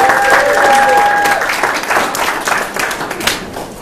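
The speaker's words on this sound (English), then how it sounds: "Everyone else, give these people a big round of applause." A crowd applauds event helpers at a holiday networking gathering, loud sustained clapping from many hands filling the room, with a brief whistle near the start.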